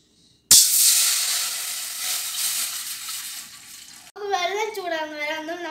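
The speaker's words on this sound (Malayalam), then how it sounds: "ഇനി ഞാൻ അതിലേക്ക് വെള്ളം വയ്ക്കാൻ പോകണം" Water poured into a heated pot on a stove gives a sudden steady hissing rush for about three and a half seconds that slowly fades, then a voice speaks.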